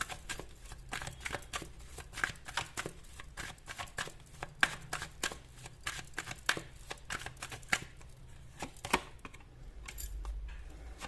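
Tarot cards being shuffled and drawn, giving a steady run of soft, dry papery flicks and slaps in quick irregular bursts, fairly close and quiet, with no talking over them.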